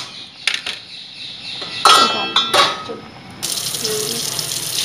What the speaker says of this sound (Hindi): तो पानी से ऐसे निकाल लेंगे ठंडे पानी से, ताकि चावल खिला खिला रहे